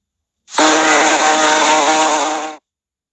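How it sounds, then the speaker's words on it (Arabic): A bee buzzes in one loud, steady, close droning burst lasting about two seconds, alone against silence. "bee."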